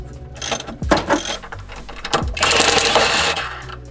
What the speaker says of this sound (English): upper control arm bolts coming out